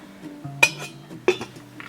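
A metal lid clanks down onto a frying pan of egg tarts twice, with light clinks and rattles between, amid a quiet background hum.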